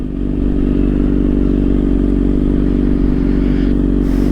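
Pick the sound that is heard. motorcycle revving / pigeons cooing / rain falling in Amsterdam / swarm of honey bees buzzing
motorcycle revving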